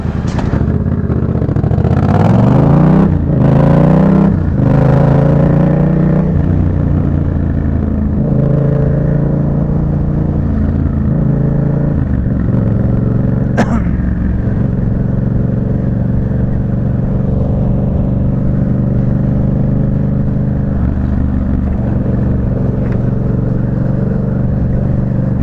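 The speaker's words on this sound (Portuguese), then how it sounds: "pilotando a MT, a Yamaha MT-07 Super Máquina" A Yamaha MT-07 motorcycle ridden on the road, engine revving up through gears at the start, then settling into a loud, steady cruising drone with wind rush, close to the rider, no voices.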